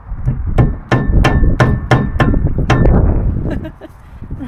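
A hammer taps a grease cap onto a Morris Marina front wheel hub, about eight sharp metallic knocks in a quick run, close and loud, some ringing.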